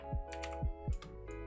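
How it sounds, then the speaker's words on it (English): A few keys are struck on a laptop keyboard while typing into a search bar, about three or four crisp, close clicks spaced unevenly over a low steady hum. "Go to the search bar and type in Questcraft."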